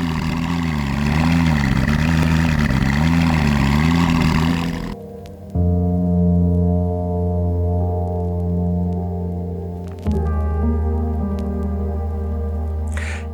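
McLaren P1 XP2R prototype engine starting up: a loud, close, warbling revving growl that drops abruptly into a steady deep idle, then a second sharp blip before settling again, with no talking.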